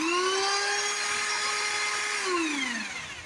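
A cordless drill spins the water pump of a small outboard motor, a steady high-pitched whine held level before winding down as the drill slows, close and loud with no talk.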